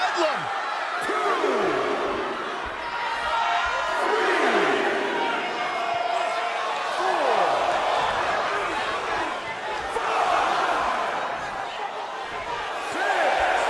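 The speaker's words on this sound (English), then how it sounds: "Look at this crowd. It's insanity in here." Large crowd at a wrestling deathmatch event roaring and cheering continuously, with swelling waves of shouting and whooping and an announcer's voice over the top.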